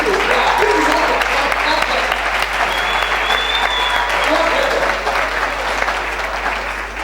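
A conference audience at a leadership event claps steadily, a dense, loud wash of applause that holds throughout and tapers slightly at the end.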